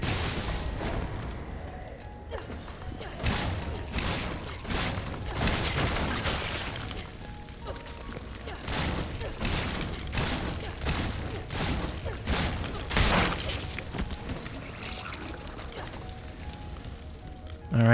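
Explosive rounds fired in Resident Evil 3 Remake, a string of sharp blasts and impacts at irregular intervals across the span, with game sounds and low talk mixed beneath.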